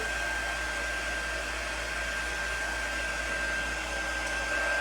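A heat tool blows steadily while drying ink, a loud, constant airy whir with a thin high whine running unbroken throughout.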